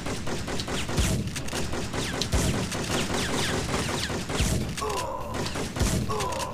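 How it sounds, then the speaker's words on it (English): Combat shotgun fired repeatedly in the Syphon Filter game, a dense run of booming blasts with mechanical clacks between them, close and loud over a busy game soundscape. "Shotgun sounds really weird on these stages."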